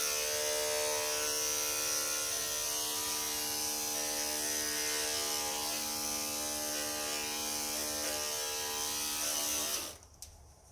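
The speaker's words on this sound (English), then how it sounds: "as you can see him getting shaved" Electric clippers buzz steadily while trimming the inside of a dog's ears, a close, continuous humming drone that holds for about ten seconds before cutting off abruptly near the end.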